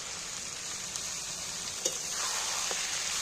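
Mutton pieces go into a hot pan of oil already frying tomatoes, giving a steady, close hiss of sizzling with a few small stirring knocks.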